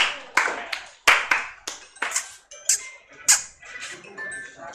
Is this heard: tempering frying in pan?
no